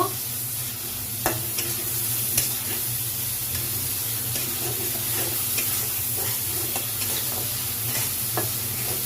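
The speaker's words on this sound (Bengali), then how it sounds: "মাছটা আমি ভালো করে কষিয়ে নেব।" Shrimp sautéing in a pan with mustard, a steady close sizzle and hiss running throughout, broken by occasional light spoon taps and scrapes, no talking.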